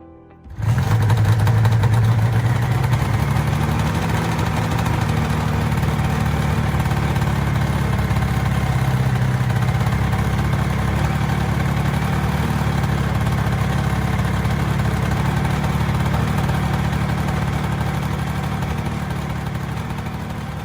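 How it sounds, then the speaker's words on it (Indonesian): A two-stroke motorcycle engine with incomplete combustion runs steadily, loud and close, holding an even idle-like drone with a slightly ragged, buzzy texture throughout, alone without talk. "Berikut adalah contoh motor 2 tak yang memiliki pembakaran tidak sempurna yang dimana menghasilkan emisi karbon berlebih."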